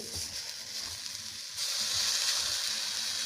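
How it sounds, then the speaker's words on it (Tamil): Neem leaves dry-roasting in a pan without oil hiss and crackle softly, with the sizzle growing steadier and brighter partway through, faint and close. "இதை வந்து எதுவும் ஊற்றாமல் வறுத்து எடுக்கணும்"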